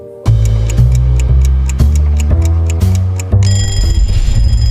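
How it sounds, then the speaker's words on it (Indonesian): A loud electronic phone alarm plays a repeating chime melody, its tones stepping in steady rhythm, then shifts to a brighter, busier pattern near the end. "Setiap pagi mungkin kita bangun karena dengar suara alarm di HP kita."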